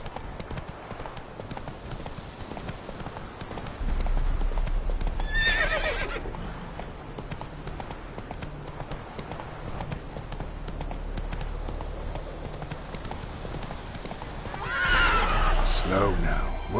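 A horse in The Witcher 3 gallops with rhythmic hoofbeats throughout and gives two loud, shrill neighs, one early and one near the end, over game background sound.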